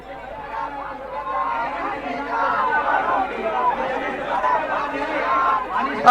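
A large crowd of protest marchers in Beed fills the air with a steady, close hubbub of many overlapping voices talking and calling out, with no single voice standing clear.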